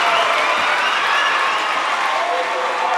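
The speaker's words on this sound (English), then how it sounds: "the Carterville crowd goes wild" At a girls' basketball super-sectional game, the Carterville home crowd roars and applauds in a loud, continuous wash of cheering filling the gym, with a voice running over it.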